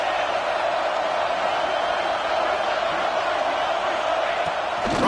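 A steady, dense roar from a stadium crowd in a college football video game rises behind the defense on a big third down, continuous and loud throughout with no clear breaks.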